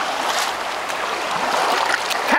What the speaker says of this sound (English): Here come the rapids.